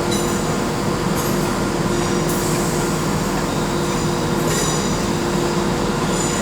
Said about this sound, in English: As 17101 departs with a cross-country service bound for Nottingham.